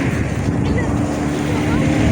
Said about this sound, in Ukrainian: вітер шумить